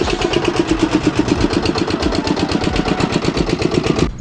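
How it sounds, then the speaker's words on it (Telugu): A small air-cooled engine on a concrete mixer fires up and runs at a steady, rapid chug, loud and close, its pulsing beat continuing evenly until it cuts off abruptly at the end. "ఇంకా మిల్లర్ని అయితే మా బాబాయ్ అయితే స్టార్ట్ చేస్తున్నాడు అనమాట."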